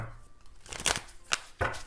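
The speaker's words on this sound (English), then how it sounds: "this deck is so thick now, it's really hard to shuffle" A thick oracle deck, Twin Flame Messages by Mystic Moon with two volumes combined, is shuffled up close in three short, crisp bursts of rustling cards separated by quiet gaps.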